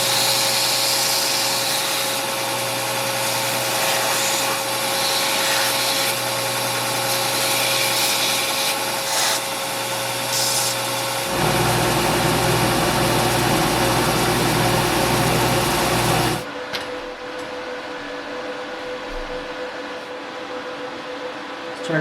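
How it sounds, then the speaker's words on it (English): An angle grinder grinds down the edges of clients' knife blades during a full restoration, a loud continuous whine with a low motor drone, shifting in pitch midway before cutting off abruptly near the end, leaving faint background hum. "I'm gonna go ahead and grind these all down so we have blank slates"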